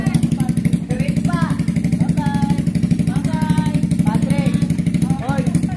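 Loud, noisy motorcycle idling and pulsing steadily close by as it prepares to leave a birthday gathering in Lancaster New City, General Trias, Cavite, with several people talking and calling goodbyes over the engine throughout.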